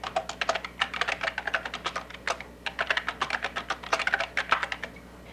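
Quick, uneven typing on a computer keyboard for a Word 6.0 for Windows document, dense clusters of close, crisp key clicks with brief pauses, no talking.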